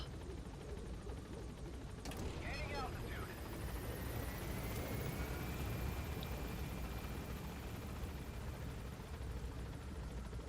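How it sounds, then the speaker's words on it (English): A helicopter in Metal Gear Solid V is already on site, its rotor and engine roar loud and steady throughout, with a sharp mechanical clank partway through over the continuous drone. "Because the chopper's already here, at this point it's quicker to get on the chopper rather than start episode 2."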